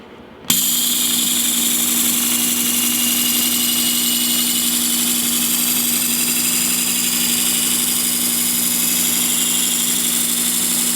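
A Work Sharp Ken Onion Edition electric knife sharpener starts up and runs steadily with a loud, continuous motor whine and belt hum, a knife blade drawn slowly through it, with no talking.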